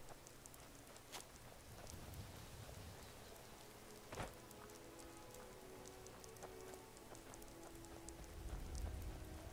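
Steady rain falls in the video game Skyrim, a dense continuous hiss with scattered drops and one sharp crack near the middle, swelling slightly louder toward the end, with no voices.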